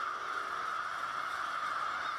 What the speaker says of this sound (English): a roost of crows can be found